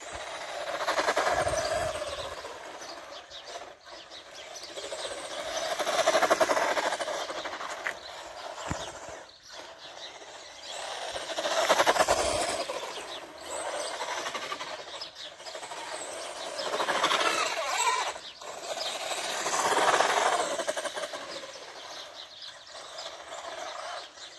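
A Tamiya Hornet RC car with an old-style stock motor whines across icy, cold ground, its electric motor buzz swelling and fading in repeated passes as it drives back and forth at a distance.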